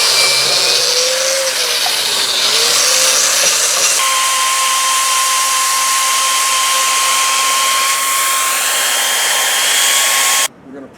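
A pressure washer hisses loud and continuous as it blasts an AMC 20 differential housing clean, the steady spray running for several seconds before cutting off abruptly.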